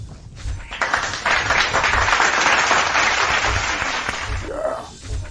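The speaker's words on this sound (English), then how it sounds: "let's give it a big applause for everyone who tuned in" A crowd's burst of applause swells quickly and holds as a dense, even clatter of clapping for several seconds before tapering off.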